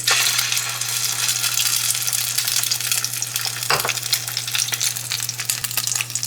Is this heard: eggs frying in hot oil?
yes